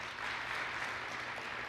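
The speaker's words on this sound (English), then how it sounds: "let's give Jerry a quick round of applause" Brief burst of audience applause at an educators' awards banquet, a dense, even patter of many hands clapping at moderate volume.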